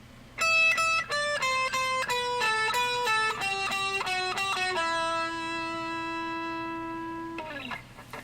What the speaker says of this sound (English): one guitar will be playing it up an octave higher